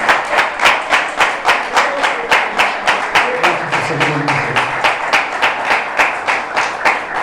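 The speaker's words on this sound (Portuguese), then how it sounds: "Você pode dar uma salva de palmas para Ele?" A church congregation claps in unison in a brisk, steady rhythm, about three claps per second, loud and close, with a low murmur of voices underneath.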